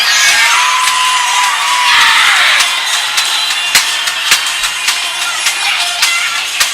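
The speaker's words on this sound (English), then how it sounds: "And the crowd goes absolutely ballistic here." An arena crowd at a U18 major ice hockey game roars and whoops after the Islanders win in a shootout, loud and sustained, with a whistle sliding over the din and sharp bangs punctuating the noise.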